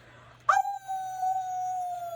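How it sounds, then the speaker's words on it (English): A wolf howls in the forest: one long, sustained howl rises sharply, then holds a steady, slightly falling tone, heard alone over a faint low hum. "A terrible howling came from deep within the forest."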